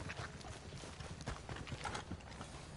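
Quiet, steady clip-clop of horse hooves trotting at an even rhythm, with a soft background hum, in the video game Red Dead Redemption 2.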